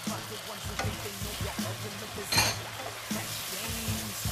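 Sweet corn tipped into beans frying in a pan for chili beans gives a steady close sizzle, with stirring scrapes and a louder crackling burst midway.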